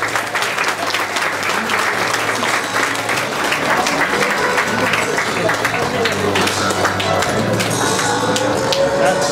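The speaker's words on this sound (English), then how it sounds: "Let's give a huge round of applause." An audience applauds at an IT department college event, dense sustained clapping from a large crowd, loud and steady throughout with a low hum beneath.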